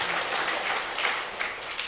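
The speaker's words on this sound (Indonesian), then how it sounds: "Beri tepuk tangan yang luar biasa bagi Tuhan kita." A congregation at a Sunday church service claps together in a dense, steady wash of applause that fills the room throughout.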